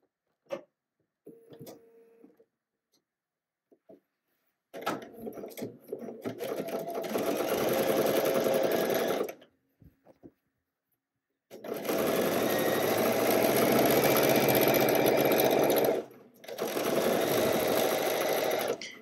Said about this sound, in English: we're going to sew here this top seam at 3/8 of an inch seam allowance